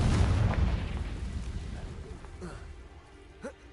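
A Confringo explosion spell from Hogwarts Legacy bursts with a heavy, booming blast that rumbles and fades over a few seconds, followed by small crackling pops and a faint later thud.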